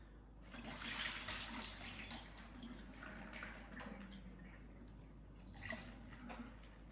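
Running water splashes from a tap into a sink, with bursts of heavier flow as raw chicken is rinsed under it, nearby and fairly quiet.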